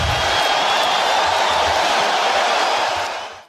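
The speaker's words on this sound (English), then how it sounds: "Listen to Nebraska's crowd." Nebraska fans cheering at a basketball game played at a neutral site, a loud, sustained, roaring arena crowd that holds steady and then drops away at the end.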